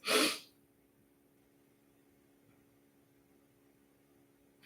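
A single sharp sneeze right at the start, close and loud, followed by near silence with faint background hiss.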